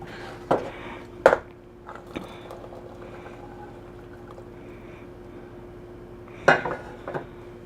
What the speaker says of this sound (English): So then what you're gonna do is you're gonna dump your rice in, and your peas.